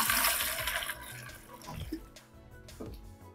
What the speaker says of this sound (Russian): Залейте тару специально подготовленной теплой водой.